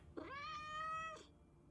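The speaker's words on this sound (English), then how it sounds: "we need to feed the cat every now and then." A cat in the survival video game Road to Vostok lets out a single drawn-out meow, clear and close, lasting about a second.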